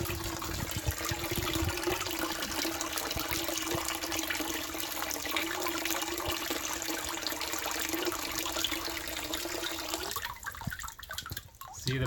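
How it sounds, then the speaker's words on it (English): Water gushes steadily from an aquaponic pond pump in a DIY greenhouse, a constant near rush that falters and thins near the end. "the water coming out from the pond pump"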